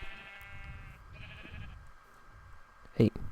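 Sheep bleating in Minecraft, a short loud bleat near the end after quieter game ambience, with some low murmur earlier in the clip.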